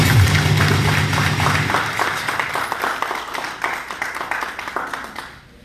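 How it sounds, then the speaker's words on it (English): Crowd clapping at a diaspora party convention in New York City, fairly loud at first and gradually thinning and fading out toward the end. "I think that deserves a round of applause."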